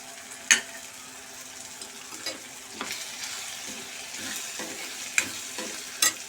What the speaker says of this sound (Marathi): लसूण आपलं परतून झालं आहे आता याच्यात मी हळद घालते एक टीस्पून